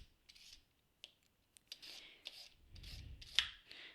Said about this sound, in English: So I'm going to peel the carrot first of all